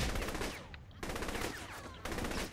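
Shotgun blasts in the game Saints Row: The Third boom out in quick succession, loud and close, three heavy bursts with short gaps between them.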